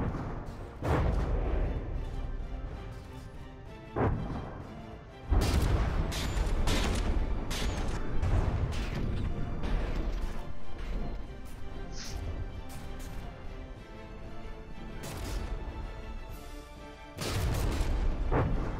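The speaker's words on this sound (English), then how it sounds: "Basically a battle between gun spam and really high quality guns." Heavy naval gunfire in a video game ship battle between the Tennessee and the Augustin, with repeated loud booming salvos and crashing impacts rolling over a constant rumbling battle din.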